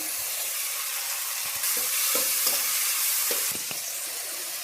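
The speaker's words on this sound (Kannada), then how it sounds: "ಸಣ್ಣದಾಗಿ ಕಟ್ ಮಾಡಿರೋ ಒಂದು ಈರುಳ್ಳಿನ ಸೇರಿಸ್ಕೊಳ್ತಾ ಇದ್ದೀನಿ ಎಣ್ಣೆಗೆ ಎಣ್ಣೆ ಬಿಸಿಯಾಗಿದೆ" Finely chopped onion and tomato fry in hot oil, giving a steady close-up sizzle with a few soft scrapes of stirring and no talking.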